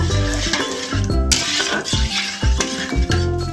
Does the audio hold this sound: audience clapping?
no